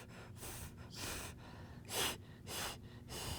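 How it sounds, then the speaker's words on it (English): Deep breath followed by quick panting breaths from a woman in labor during an obstetrical assessment, a series of rhythmic airy gasps, close and unaccompanied by speech. "take a deep breath and just kind of pant like you're a dog"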